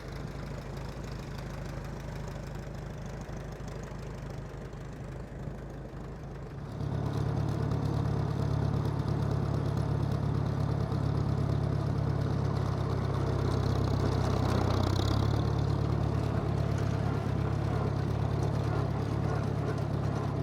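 A Farmall tractor engine idles and runs steadily while being parked next to another tractor, a continuous low rumble that grows louder and heavier partway through, with no talking.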